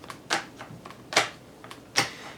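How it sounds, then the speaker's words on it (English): Tarot cards are loosely shuffled by hand: three sharp, papery flicks at irregular intervals, with fainter rustles between them, close and fairly quiet. "now I just do this loose shuffle to kind of let the cards sort of fly out"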